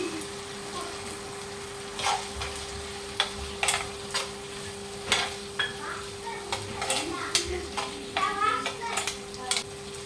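A cornflour and water mixture goes into a sizzling paneer dish in a pan, with repeated spoon scrapes and clinks against the pan over a soft, steady frying hiss.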